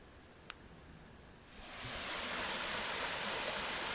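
A creek along a marshy, boggy hiking trail tumbles over rocks, its rushing water swelling into a steady, fairly close roar partway through.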